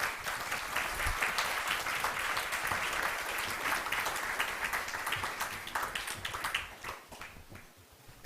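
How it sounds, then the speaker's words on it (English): Conference audience applause, a dense sustained burst of clapping that stays strong for several seconds, then thins out into scattered claps and fades away. "please, I want you to really, really give a rounding applause for them"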